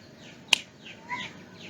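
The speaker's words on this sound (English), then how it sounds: "A sound produced because I clapped my hand." A single sharp hand clap by a yoga teacher, one crisp close snap that dies away quickly in a quiet room with faint chirping in the background.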